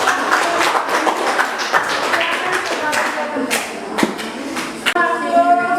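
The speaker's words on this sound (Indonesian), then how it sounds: "kita kasih aplaus untuk kelompok" A room full of people claps for a presenting group at a classroom teaching-performance session, steady dense applause lasting several seconds with a few sharper individual claps and murmured voices underneath.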